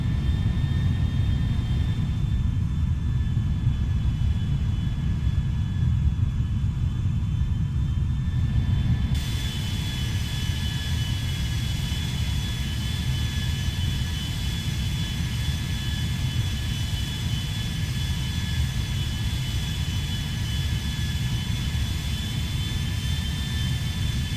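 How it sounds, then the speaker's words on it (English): A Boeing 747-100 jumbo jet from a GTA V mod lands, its engines giving a steady loud roar and rumble with a thin high whine that continues throughout. "That looks like a Concorde landing right there."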